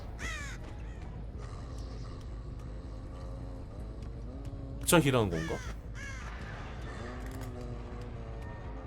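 Crows cawing in the video game Dead by Daylight: several harsh caws and a sudden burst of flapping wings rise over a droning background, with a person talking throughout.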